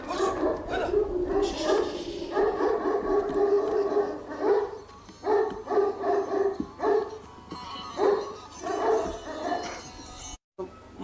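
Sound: Turkmen Alabay dog barking

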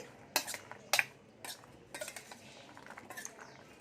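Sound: mixing chopped fruit and pomegranate seeds for fruit custard

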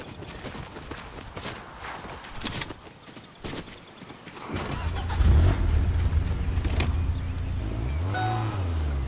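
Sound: car driving in Fortnite video game

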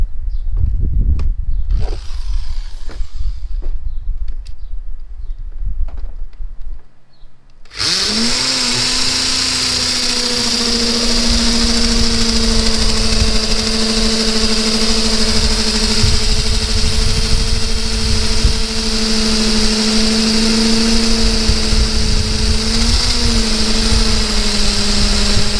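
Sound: power drill drilling an anchor bolt hole for a shed

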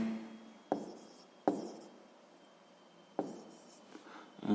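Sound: writing down the answer to a math exercise

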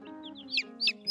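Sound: broody hen clucking

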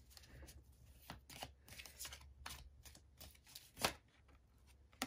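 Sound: thick tarot deck being divided into three piles

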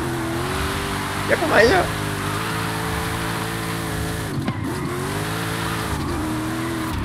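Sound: car drifting with handbrake in video game Forza Horizon 5

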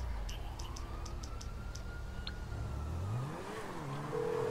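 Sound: police car siren in GTA V video game

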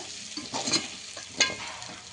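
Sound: frying goat leg pieces for soup on stove

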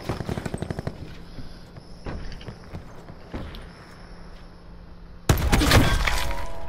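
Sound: gunfire in a video game

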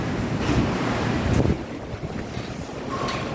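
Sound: strong wind

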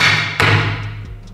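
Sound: 3D printed part banged on a table

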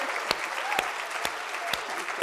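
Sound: audience applause welcoming speaker Alice Waters

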